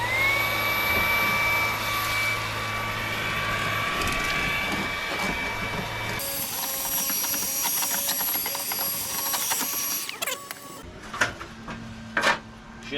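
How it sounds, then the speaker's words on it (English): A vacuum cleaner roars with a high whine, then changes pitch as it sucks up rust inside an abandoned 1959 Plymouth, with rattling clatter and knocks toward the end. "probably vacuum out all this rust."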